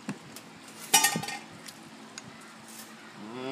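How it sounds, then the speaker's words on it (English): A metal spoon knocking and scraping inside a pot of greens cooked on a smoker, a few sharp clinks with one louder clatter, then quieter stirring sounds. "it looks like I need to stir these greens"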